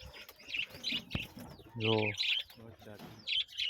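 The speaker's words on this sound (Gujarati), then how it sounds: "ખૂબ કબૂતર છે આપણા જોડે" Pigeons in a home loft give close, soft coos and short chirps, with a brief flutter of wings. A voice speaks a single quick word among them.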